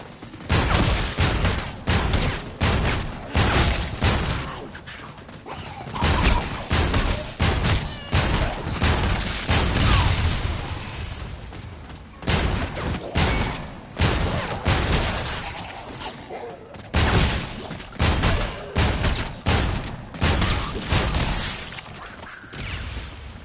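Gunfire in Infinite Warfare zombies, with rapid bursts of loud shots separated by short pauses and brief reload sounds in between, close and dominant.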